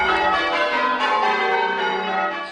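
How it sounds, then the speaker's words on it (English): Four-hundred-year-old church bells peal in England to celebrate the birth of a royal baby prince. Bright, overlapping metallic strikes ring continuously and loudly, dense and resonant, fading slightly at the end. "400-year-old bells rang out for the little prince"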